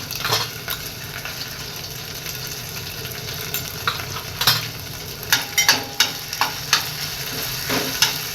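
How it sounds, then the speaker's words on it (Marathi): Cumin and mustard seeds, added after a ginger-garlic paste, splutter in hot oil for a khichdi tempering, making a steady sizzle with a run of sharp pops and crackles toward the end, with no talk. "थोडं जिरे मोहरीची फोडणी द्यायची"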